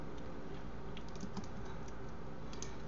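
Quick, steady typing on a computer keyboard, with light key clicks pattering over a constant background hum, quiet and unaccompanied by voices.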